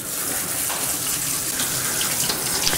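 Cool tap water gushing onto cooked orzo in a colander in a kitchen sink, a steady, close hissing splash that holds even and loud throughout with no voices.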